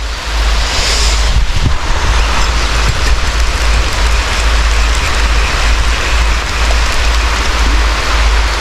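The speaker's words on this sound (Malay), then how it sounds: "Jadi hujan ni gaya macam sampai ke petang." Steady heavy rain falls outdoors during a fishing trip. It makes a loud, continuous hiss, mixed with wind buffeting the microphone, and no one speaks.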